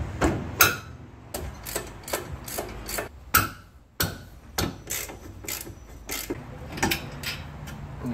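Wrench work on the two 14mm bolts that hold a brake caliper to the hub assembly: sharp metallic clicks and knocks, some close and loud, come in uneven bursts over steady background noise with no talk.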